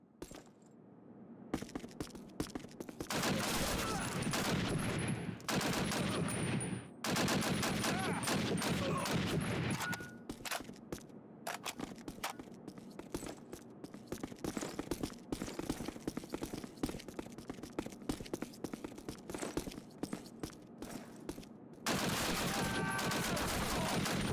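Repeated shots from the player's gun in Call of Duty, set in a snowy Alpine chateau, crack in rapid bursts separated by short silent gaps, loud and close, with occasional speech.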